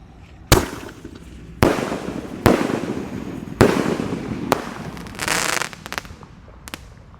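Four blue firecrackers set off one after another outdoors, each a sharp loud bang with crackling tails, followed by a short burst of fizzing crackle and a few smaller pops.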